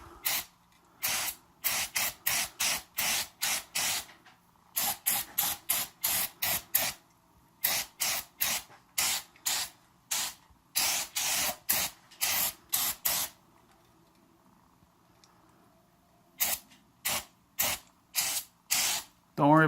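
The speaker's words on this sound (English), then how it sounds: "all I do is I take my brake cleaner and just give it a once good" Brake cleaner sprayed onto an AR-15 rifle in a burst of repeated short aerosol hisses, loud and close, with a few brief pauses between runs of spraying.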